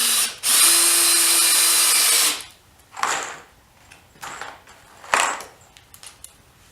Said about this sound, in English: you could always drill a pilot hole